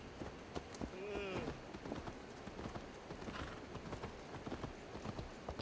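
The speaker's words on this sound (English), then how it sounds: "A little hard controlling the horse sometimes." Rapid, steady clip-clop of galloping horse hooves in Assassin's Creed Valhalla throughout, with a brief whinny early on and a faint voice underneath.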